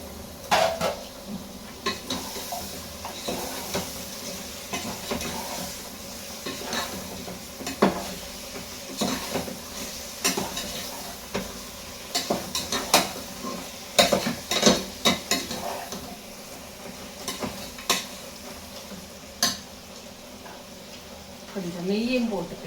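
Chicken with garam masala is stirred in a frying pan, with repeated metallic scrapes and clanks of a utensil against the pan over a low, steady sizzle.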